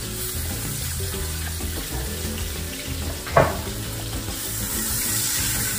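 Green chilies and ginger with hing, cumin and curry leaves fry in hot oil, giving a steady close sizzle with a brief louder crackle midway.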